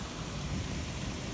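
Heavy rain pours down steadily during a severe thunderstorm, a dense, even hiss that fills the whole short stretch, with no talking and no distinct thunder clap.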